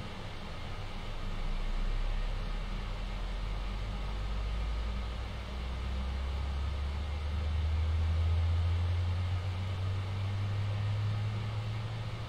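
An Airbus A320 engine number two spools up in the X-Plane 11 flight simulator with the BSS sound pack: a deep, steady rumble that slowly climbs in pitch over several seconds, with a faint hiss above it and no voices.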